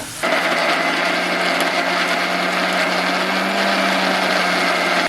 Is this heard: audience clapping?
no